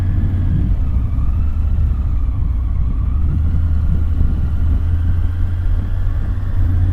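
A motorcycle cruises along the I-40 highway, its engine a constant low rumble blended with road and wind noise, loud and unbroken throughout.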